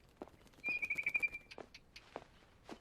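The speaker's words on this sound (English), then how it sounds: "Then I heard chirping outside my window. It was a barn swallow going back to her nest." Barn swallow chirping outside a window in the game What Remains of Edith Finch: a brief sustained whistle-like tone, then several short, sharp chirps spaced irregularly, faint against a quiet background.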